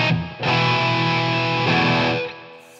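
Overdriven electric guitar through an Xotic Soul Driven overdrive pedal, heavy sustained chords ringing loud and close, with a fresh strike midway and the notes decaying near the end.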